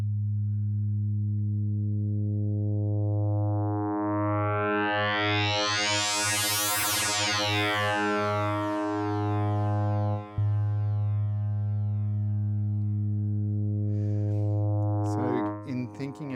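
A drone built from an FM tone synth, washed in reverb and delay, holds a loud sustained harmonic tone while a bright swept layer rises and falls through the middle, then shifts into glitchy textures near the end.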